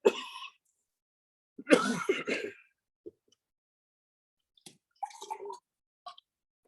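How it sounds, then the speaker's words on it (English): Several separate bouts of coughing and throat clearing break a quiet room, some single and some in quick clusters. "sorry you have a bad cough."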